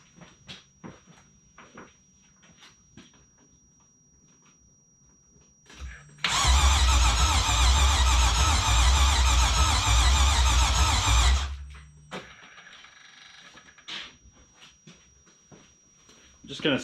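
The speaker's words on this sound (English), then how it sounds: "Let me set you up so you can see it crank." A car engine in a BMW E36 with an LS V8 swap and no fuel cranks loudly on its starter for about five seconds, a steady rapid churning that stops abruptly, with quieter clatter and movement before and after.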